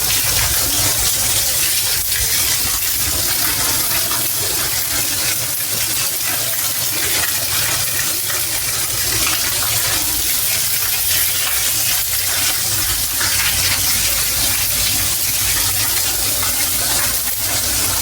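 Continuous hiss of steady rain falling, dense and even with no pauses, no voices present.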